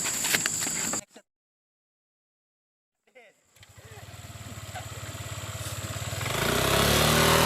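A motorcycle engine starts and idles with a steady low chug, growing louder toward the end, after a short burst of noise and a silent gap.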